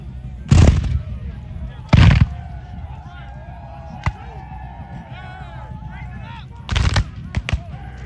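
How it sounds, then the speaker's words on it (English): Civil War reenactors fire musket volleys at a Battle of Cedar Creek reenactment in Middletown, Virginia: three loud, booming blasts several seconds apart, each with a short rolling echo, over steady outdoor crowd murmur and distant voices. "Fire a volley, everybody stops and loads."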